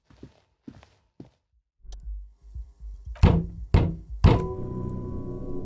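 Punching a door in the video game Disco Elysium: after faint footsteps and shuffling, three heavy, resonant knocking thuds land about half a second apart, the last ringing out with a lingering tone.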